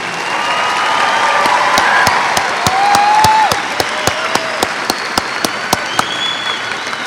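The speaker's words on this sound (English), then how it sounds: "please give me a big round of applause for the mighty Martin High School class of 2016" A large crowd at the 2016 Martin High School graduation ceremony gives the graduating class a sustained round of applause, dense and loud throughout, with a few sharp claps and faint cheers standing out.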